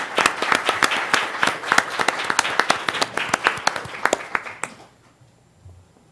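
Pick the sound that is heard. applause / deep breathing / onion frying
applause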